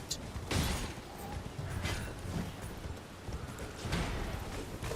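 Hooves clip-clop rhythmically as a horse gallops in Elden Ring, with repeated thudding steps over a steady background and a faint hint of a whinny.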